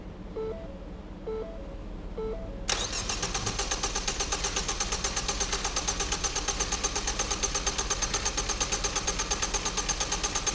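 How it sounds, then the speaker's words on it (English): A Ford car engine runs through an injector flow test: a few faint clicks, then the engine cranks abruptly and settles into a steady, close idle with an even rhythmic pulse, no voices. "it's going to count down till our engine cranks."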